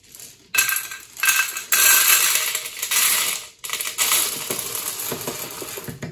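Dry popcorn kernels are tipped into an Ambiano popcorn maker, pouring in loud, close rattling bursts that rise and stop several times as the grains clatter against the hard plastic.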